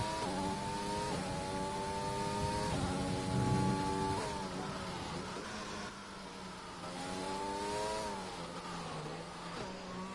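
Ferrari Formula 1 car in F1 2020 racing game on a lap of the French circuit, engine whining steadily at high pitch with repeated rises and drops through gear changes, continuous and fairly close.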